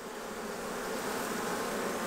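Honey bees buzz steadily around open hive frames during an October inspection, a dense, close, continuous hum with no voices.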